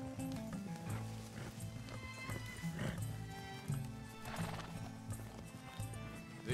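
A horse whinnies and snorts over steady clip-clopping hooves in Red Dead Redemption 2, with a soft rumbling backdrop and no talking.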